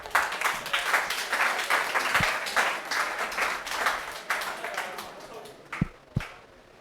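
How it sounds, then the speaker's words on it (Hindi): An audience at a school ceremony honouring selected students applauds steadily for several seconds, a dense wash of clapping that tapers off, with a couple of louder isolated claps near the end. "तालियां भाई।"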